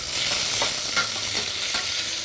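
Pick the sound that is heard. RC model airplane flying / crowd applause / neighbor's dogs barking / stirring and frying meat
stirring and frying meat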